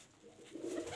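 A soft, low coo from a female pigeon rises in the second half of this short moment, close and fairly quiet against faint background noise.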